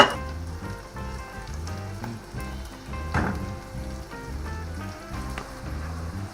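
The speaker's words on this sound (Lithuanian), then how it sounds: "Ir kepinam svogūnus" Onions fry in a pan for a potato zeppelin and stewed pork dish, a steady close sizzle with crackling pops throughout and no talking.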